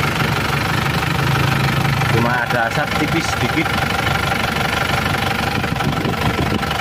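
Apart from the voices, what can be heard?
car engine idling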